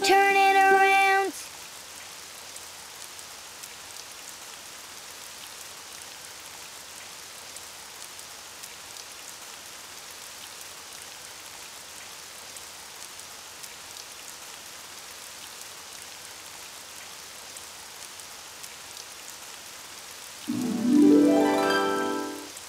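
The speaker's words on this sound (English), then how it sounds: "Oh, it's raining outside." Steady rain patters and hisses evenly throughout in a Daniel Tiger cartoon, with brief musical tones at the start and a low swelling tone near the end.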